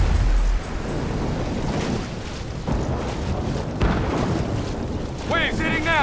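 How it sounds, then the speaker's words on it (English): Storm waves crash in Call of Duty: Black Ops III, with heavy roaring surf and deep booming impacts in several surges over a continuous rush of wind and water, plus brief electronic game beeps near the start and end. "Waves hitting now! Use your bolt driver!"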